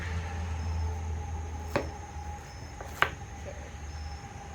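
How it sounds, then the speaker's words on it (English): A knife cuts through a ripe yellow-orange watermelon, two short crisp slicing cracks a little over a second apart, close by over a quiet, steady background hum. "This is a really ripe yellow or orange watermelon. I'm gonna slice it."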